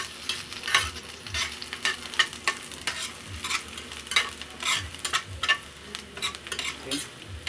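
Garlic frying in oil in a pan while being stirred, a steady close sizzle broken by repeated scraping stir strokes throughout, no voices.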